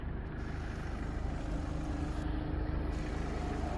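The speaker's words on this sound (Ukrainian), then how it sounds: "Двигун працює просто ідеально, м'яко, форсунки, коробка, все без зауважень." A 2017 facelift Skoda Octavia with a 1.6-litre 116 hp diesel engine and automatic gearbox idles steadily and smoothly, a low, even rumble recorded up close with no talk.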